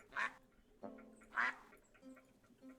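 In Tiny Glade, a duck gives two short, nasal quacks about a second apart, soft and close, with fainter quacks and chirps trailing after them in a quiet setting.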